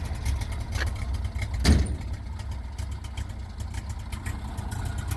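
A car engine idles steadily with a low, continuous rumble and a slight rise in revs partway through.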